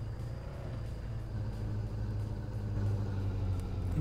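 A car in the video game American Theft 80s drives with a steady, low engine rumble that swells slightly toward the end, with no voices present.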